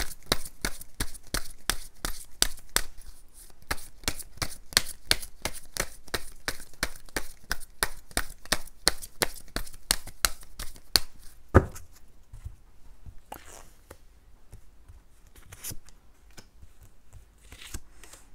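Tarot cards are shuffled and drawn in a rapid, steady run of crisp riffling clicks for about eleven seconds, close and fairly loud. It then turns to a few scattered, softer card slides and taps, with no talk.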